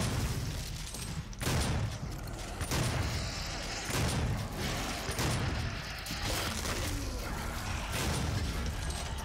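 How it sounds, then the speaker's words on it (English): Super shotgun in DOOM 2016 fires several heavy, booming blasts at irregular intervals over dense continuous combat noise and crashing effects, loud and close. "Right, super shotgun."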